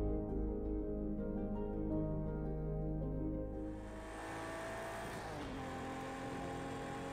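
A McLaren GT3 race car driven in Project Cars 2 with paddle shifts, its engine droning with steady harmonic tones that drop in pitch and loudness midway through, as after a gear change, then hold on at a lower level.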